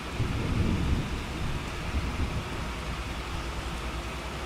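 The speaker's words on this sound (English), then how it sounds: "We are planting in the rain." Steady heavy rain with rumbling thunder from a Farming Simulator 25 storm during field planting: a continuous broad wash of rainfall with deep low rolling underneath, loudest in the first second, no voices.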